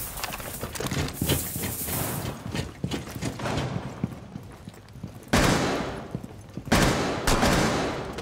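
Gunfire in the tactical shooter Rainbow Six Siege, dense bursts of rapid shots and impacts against a wall, some sharp and near and others duller, arriving in clusters with short gaps between them.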